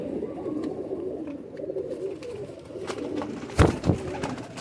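Pigeons from a high-flying breed coo quietly over a steady low background murmur, with a couple of louder close thumps or flutters near the end.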